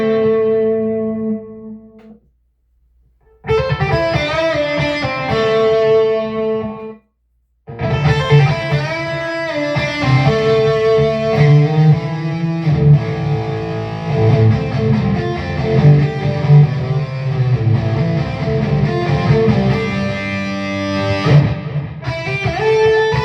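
Distorted electric guitar through a Peavey Vypyr X2 amp on one of its amp models, played as loud crunchy chords and riffs with two short pauses near the start, then a continuous run.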